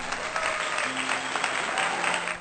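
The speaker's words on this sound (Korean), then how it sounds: "박수!" Studio applause from a small group, a dense steady patter of claps at moderate level across the whole stretch, opening a Korean radio-style episode, with faint tonal hum beneath.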